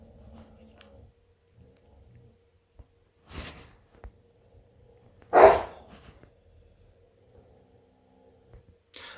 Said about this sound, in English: Oh my, more dogs.